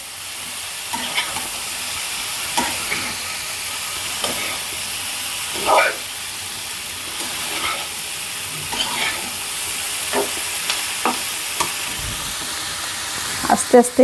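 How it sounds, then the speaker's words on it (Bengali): Food sizzles steadily in a wok over low heat while a utensil scrapes and stirs in irregular strokes; a voice speaks briefly over the cooking. "এটা লো হিটে রান্না করে নেব একটু কষিয়ে নিচ্ছে"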